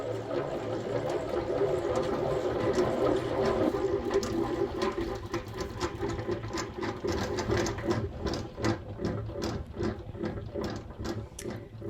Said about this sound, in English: So when the frames are ready, they go into the extractor, and then the honey is spun.